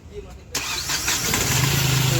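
A Hyundai Xcent CRDI diesel car engine cranks and catches partway in, then settles into a steady, loud, close idle.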